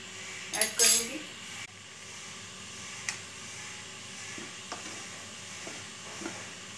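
Butter melts in a pan on a gas stove, giving a soft continuous sizzle under a couple of loud utensil clinks and stirring scrapes near the start, then quiet occasional taps.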